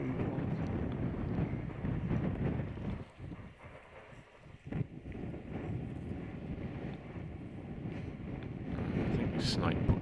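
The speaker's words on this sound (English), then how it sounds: "It was quite windy." Wind rumbles against the microphone in gusts, dropping briefly before building again, with a faint voice underneath.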